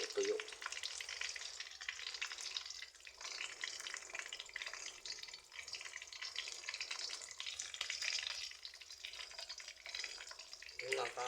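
Dried fish (tuyo) frying in a pan for breakfast, a steady loud crackling sizzle that runs unbroken throughout, with occasional faint utensil movement.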